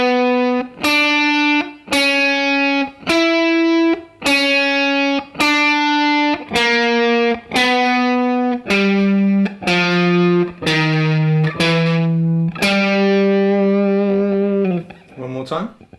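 Slowed-down jazz blues lick on electric guitar, a sequence of distinct single notes plucked one at a time at an even pace, ending on a sustained note, close and clear with no voice.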